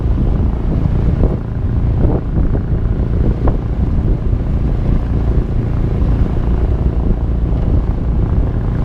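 Strong easterly wind buffets the microphone in a constant low roar aboard a Cape Dory 25D sailboat, with water sloshing faintly beneath it.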